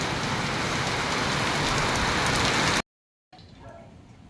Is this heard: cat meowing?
no